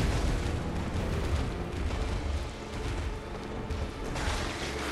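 A fire attack strikes the Blood-starved Beast in the video game Bloodborne, giving a loud, continuous roaring burst of flame and rumbling impact that fills the whole moment without pause.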